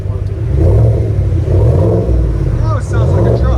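A loud 6.2L V8 engine on a 2021 GMC Yukon Denali XL with the muffler deleted revs up and down in deep, throaty surges, with brief talking faintly underneath.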